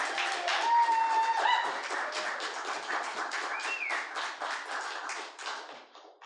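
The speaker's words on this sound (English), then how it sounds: "please give a very, very warm round of applause to Lillian" An audience at a storytelling and poetry open mic gives a warm round of applause, a steady wash of many hands clapping close by. It continues for about six seconds and tapers off at the end.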